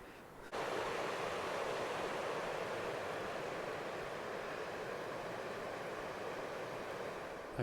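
A river rushes steadily beside a campsite in Black Canyon National Park, a constant broadband roar of flowing water that starts abruptly and holds at an even level throughout.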